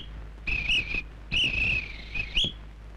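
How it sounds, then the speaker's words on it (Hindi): A person whistles in place of speech, three shrill, wavering bursts in speech-like phrases with short pauses between them, close and clear in a classic Bollywood comedy scene. "तुम सीटी में बताओ"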